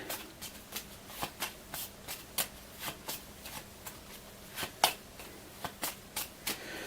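Game cards for a dungeon-crawl tabletop game are shuffled by hand nearby, a string of crisp riffling bursts in an irregular rhythm with short gaps between them, quiet and without speech.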